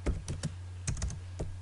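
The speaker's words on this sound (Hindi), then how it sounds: "F8 कीबोर्ड से आप जो प्रेस करते हो" Keys on a computer keyboard are pressed while drafting in AutoCAD, giving a handful of close, crisp clicks in an uneven rhythm over a low steady hum.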